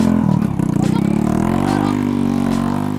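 Aging motorcycle engine straining under a heavy load on a rough road, a loud close rumbling drone with a rapid pulsing beat and shifting pitch, steady throughout.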